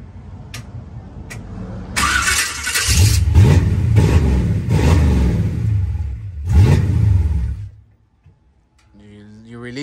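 A car engine revs up under applied throttle in two loud surges, with a ticking idle before them and a quieter settling after, while people talk nearby.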